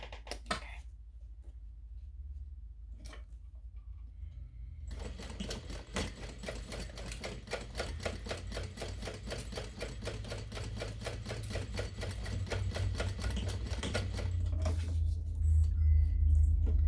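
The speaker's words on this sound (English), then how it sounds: "we're going to sew 1/4 of an inch down the side" A sewing machine runs a quarter-inch seam down the side of a fabric ID pouch, starting after a few short taps and then whirring in a fast, steady close-up clatter that grows louder toward the end.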